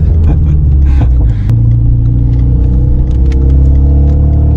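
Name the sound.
Renault Mégane RS 300 hp driving around a race circuit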